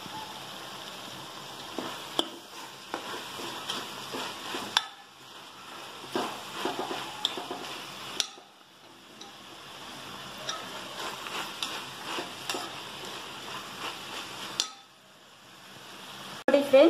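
Vegetable pulao ingredients fry in a pressure cooker, a faint intermittent sizzle broken by quiet clinks and scraping stirs, with brief pauses and a louder clatter at the very end.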